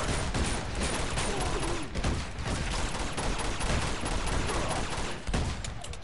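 Pistol fire in Uncharted 2: Among Thieves rings out as a dense string of close, loud shots, part of a chaotic firefight where the reports blur into a steady roar of gunfire.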